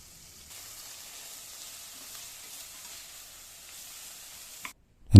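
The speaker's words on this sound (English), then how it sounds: "While the onions are beginning to fry" Onions and garlic sauté in a pan with a soft, steady sizzle, continuous and fairly quiet, ending in a brief clatter.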